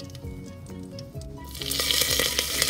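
A teaspoon of cumin seeds lands in a pan of hot ghee and butter and breaks into a bright, crackling sizzle that swells and holds steady after a few soft stirring taps.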